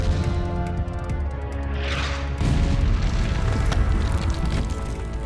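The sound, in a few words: cannon shelling a fortress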